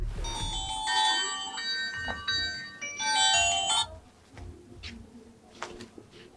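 A mobile phone ringtone plays a bright, repeating electronic melody in two bursts during a tense Bangla drama scene, fairly loud and close, then gives way to quieter room noise.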